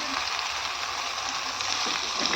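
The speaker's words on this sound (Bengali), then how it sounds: "বেগুন ভাজতে কিন্তু অনেক তেল লাগে" Eggplant (brinjal) slices frying in plenty of oil, a steady close hiss and crackle of sizzling that runs unbroken, with a few faint clatters near the end.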